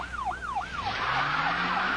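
A wailing police siren sweeps up and down in loud, steady cycles during a high-speed pursuit, shifting into a faster yelp pattern partway through over the rumble of a moving vehicle.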